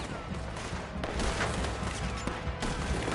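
Gunfire in Red Dead Redemption 2 sounds as a couple of sharp shots over a dense, noisy backdrop of game sound, fairly close, with voices under it.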